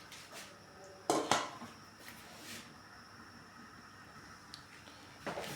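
A lid set onto a cooking pot of shrimp sinigang with beans and pumpkin flower, making a quick pair of metallic clatters near the start and a faint clink later over quiet kitchen background.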